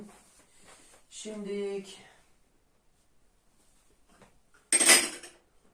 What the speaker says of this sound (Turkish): Şimdi ben bunlara da tabaklarımı diziyorum.